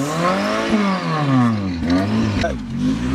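A car engine revs up and down in rising and falling sweeps, loud and close, with voices cheering over it.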